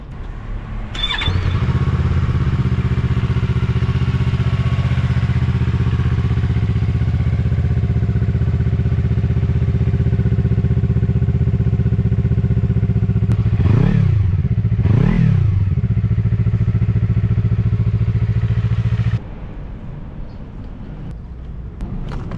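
A Yamaha MT-25 motorcycle on its stock exhaust starts and idles loudly close by, with two quick revs rising and falling midway before the engine settles and then drops to a quieter idle near the end.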